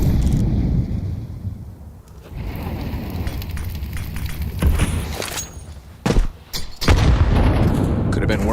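A grenade detonation in a professional Counter-Strike match at IEM Katowice 2025 lands amid gunfire and game ambience, with several sharp booms late in the stretch while a caster talks throughout.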